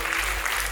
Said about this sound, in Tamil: அவர்கள் அனைவருக்கும் ஒரு பலத்த கரகோஷம் அவர்களுக்காக